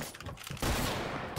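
Rapid fully automatic fire from a Barrett sniper rifle in a shooting video game, a dense continuous loud burst of gunfire starting abruptly after a quieter moment.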